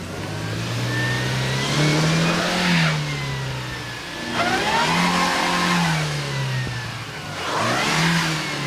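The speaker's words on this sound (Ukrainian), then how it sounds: "Машини застряють в снігу і відмовляються їхати." A car stuck in snow revs its engine again and again, each rev rising and falling in pitch in repeated surges, loud and near, with no talk over it.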